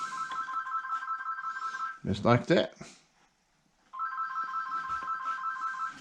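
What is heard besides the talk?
telephone ringing in the house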